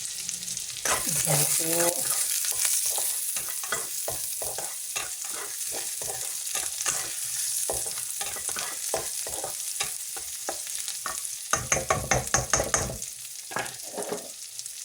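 Chopped green onions drop into a hot pan and are stirred with a loud, constant sizzle, with repeated scraping and clattering strokes of a spatula. Someone speaks briefly over the frying.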